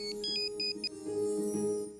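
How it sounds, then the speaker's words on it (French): A telephone ringing indoors in a French-dubbed television drama scene, with repeated bright electronic ring bursts early on over a steady background music bed; no one speaks. "Oh, c'est le téléphone."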